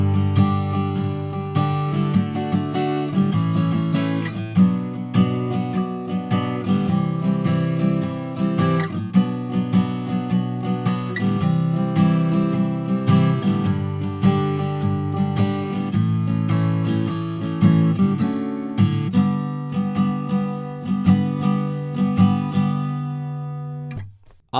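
Acoustic guitar strumming interlude chords, a full, steady, continuous run of ringing chords for over twenty seconds, played alone and close, fading at the end.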